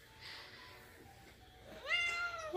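Pet cat giving a clear rising meow close by near the end, after a quiet stretch with faint indoor background sound.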